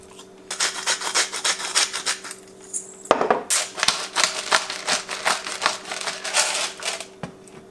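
Hands rub salt and pepper into raw duck skin, a close, steady rasping and scrubbing in repeated strokes with brief pauses, no talking.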